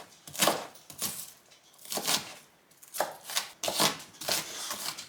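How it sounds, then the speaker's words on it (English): A knife chops onions on a board in clustered bursts of sharp, close taps, with brief pauses between runs. "I'm just gonna go ahead and chop them"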